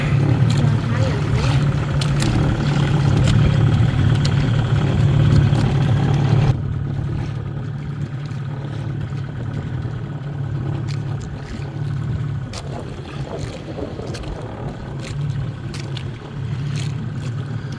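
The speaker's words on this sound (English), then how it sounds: "a little putt-putt cruise" A small motorboat putters along on a moonlight cruise off a Philippines beach, its steady low engine drone continuous and fairly close, dropping slightly in level partway through.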